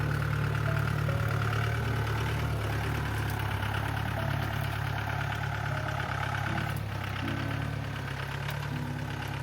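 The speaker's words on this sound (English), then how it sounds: "the jeep goes in reverse gear from here" A jeep engine running steadily while the vehicle reverses on a hill road near Munnar, Kerala, a continuous close rumble with faint knocking and no talk.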